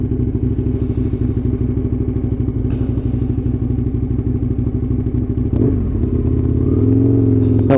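An Aprilia RSV1000 Mille motorcycle runs steadily and loud up close during a ride, its engine note throbbing with some clattering and thumps and a shift in pitch near the end, with no talking.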